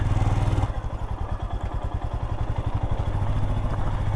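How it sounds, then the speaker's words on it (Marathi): A fully loaded Royal Enfield motorcycle putters nearby at low speed while being ridden to park, its rapid thumping idle rhythm steady and close, with a brief change in tone near the start. "बाईक पहिली पार्क करतो रूमकडे."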